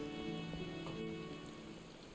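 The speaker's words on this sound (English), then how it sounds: "It's rain and it's pouring." Steady pouring rain in the game Final Fantasy XIV, a dense continuous hiss with faint low tonal ambience beneath, heard alone at moderate level throughout.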